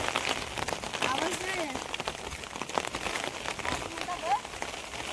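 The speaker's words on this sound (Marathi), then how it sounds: "आता पाऊस आला थोडासा" Light rain patters steadily outdoors in open countryside while wild leafy greens are being gathered, a continuous hiss of drops with voices talking nearby.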